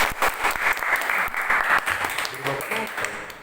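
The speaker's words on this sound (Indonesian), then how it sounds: "Berikan tepuk tangan." A debate audience claps after a speaker's answer, with dense, steady applause lasting a few seconds and a voice talking over it.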